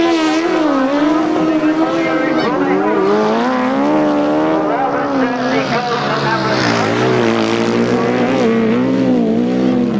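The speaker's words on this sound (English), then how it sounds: "look at the speed Roger Measor's going down that back straight" 1000cc right-hand sidecar grasstrack racing outfits at a race meeting, engines roaring continuously at high revs down a back straight, pitch rising and falling as they pass, loud throughout with a commentator talking over them.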